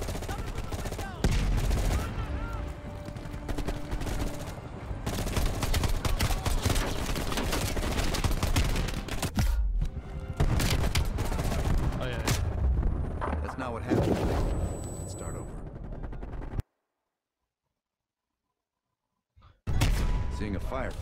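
Dense, continuous bursts of gunfire and explosions from a firefight in Call of Duty: Black Ops Cold War, loud and chaotic, with voices talking over it, then a sudden stretch of silence.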